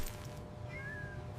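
A kitten gives a few brief, thin meows during play, faint against a low background hum, with no talking.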